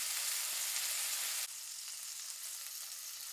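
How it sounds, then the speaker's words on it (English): Burger patties sear in a hot pan with a dense, steady frying sizzle, loud and close at first and then dropping to a softer, continuous crackle. "Wait until the patties have developed a nice sear on the first side."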